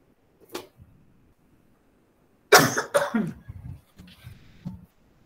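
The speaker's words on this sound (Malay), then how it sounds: "Maaf ya saya batuk." A person coughs close to the microphone, with one short cough followed by a louder double cough and a few fading throat sounds, in an otherwise quiet room during an Islamic studies lesson.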